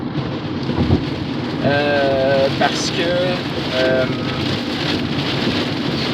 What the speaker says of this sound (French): il y a un gros orage en ce moment